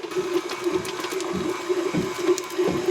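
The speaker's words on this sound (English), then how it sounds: "Butter going into the 18th century mixer." An old electric stand mixer creaming butter for a sugar-free pound cake, a steady close motor whine with a rhythmic mechanical churning running throughout.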